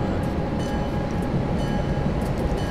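A freight train in the video game Train Simulator 2013 rumbles steadily at close range, a continuous heavy rolling drone of wheels and wagons with faint rhythmic clicking and no breaks.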